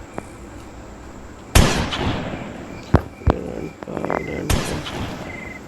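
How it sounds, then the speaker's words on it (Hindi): Gunshots fired by the grandpa character in the Granny horror game: several loud, sharp blasts at irregular intervals, each with a short decaying tail, over a low steady background and with no talk. "ग्रैंडपा गोलियां चलाई जा रहे हैं।"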